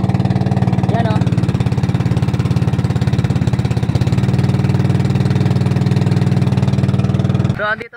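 A 19 HP high-speed outboard engine on a fishing boat runs steadily at close range with a loud, even rhythmic drone, ending abruptly near the close.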